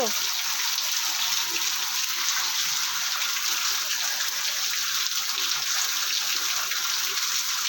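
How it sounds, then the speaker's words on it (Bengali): Heavy rain pours down steadily in a continuous broadband wash, loud and close throughout, with no clear voice over it. "দেখো বৃষ্টি একদম ভেসে যাচ্ছে"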